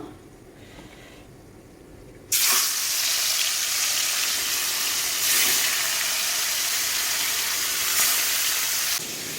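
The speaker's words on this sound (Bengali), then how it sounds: "তেল গরম করেছি এই মাছগুলোকে ভেজে নেব" Live fish from a pond dropped into hot oil for frying, bursting into a loud, steady sizzle after a quiet moment and holding strong with slight surges until the end, with no talking.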